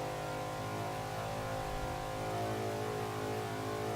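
A 427 Shelby Cobra's V8 engine at full throttle in Forza 5, a continuous loud, harmonic-rich roar held steady for several seconds with no talk over it.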